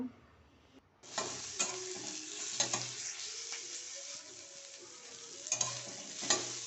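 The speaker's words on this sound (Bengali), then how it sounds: "দেখো এখানে ভাজা হচ্ছে উচ্ছে আলু ভাজা" Bitter gourd and potato pieces fry with green chilli in a pan, giving a soft, close sizzle with sharp scrapes and clatters from stirring.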